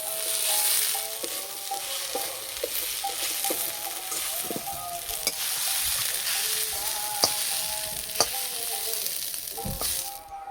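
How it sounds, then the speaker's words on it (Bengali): Jute leaves stir-fried in a pan in a Bengali village kitchen, a steady close sizzle with repeated scraping strokes of the spatula, several sharp clinks near the end, no talking. "শাকের রসটা যতক্ষণ না মরছে এইভাবে একটু নাড়াচাড়া করে নেব।"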